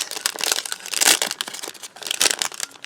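A scrap of cellophane packaging crinkles and crackles loudly and continuously, up close, as it is handled and cut with scissors into a piece, with bursts of sharper rustling and no talk.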